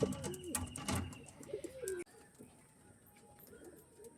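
Pigeons coo repeatedly at close range, soft throaty rolling calls in the first half followed by quieter background chirps and rustling.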